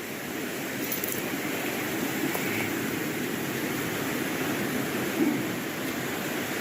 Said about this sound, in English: That is a strong current coming out from under this building.